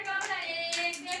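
Young children clap their hands together in a short burst of quick, fairly soft claps close by, with no talking.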